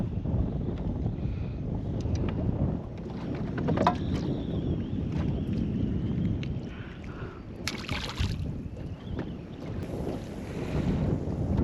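Strong wind gusts across the microphone from behind while trout fishing from a small boat, a loud continuous low roar with rushing bursts and faint water sounds, no speech.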